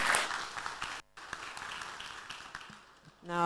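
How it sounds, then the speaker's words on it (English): A brief round of encouraging applause at an agriculture accelerator pitch day, soft and somewhat distant, with scattered claps broken by a short gap and a voice starting up at the end. "Round of applause for encouragement"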